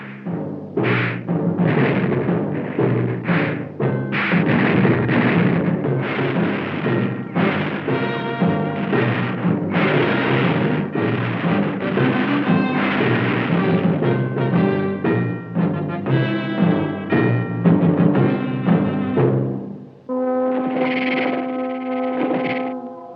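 Cartoon weapons firing at a giant robot in an animated battle, with continuous distorted, echoing blasts and booms that run loud and dense and end in a ringing tonal burst.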